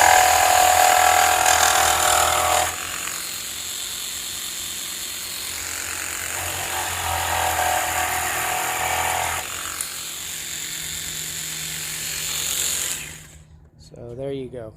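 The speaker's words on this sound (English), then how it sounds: "Now I'll do a cut here with my progressor blade with no orbit action" A Bosch 12 volt jigsaw with a Progressor blade and no orbit action cuts through half-inch material, its motor buzzing loud and steady with shifts in load before it cuts off near the end.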